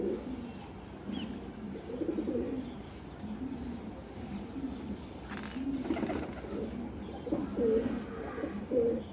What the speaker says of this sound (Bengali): আমার পায়রাদেরকে খাওয়াতে খুবই ভালো লাগে।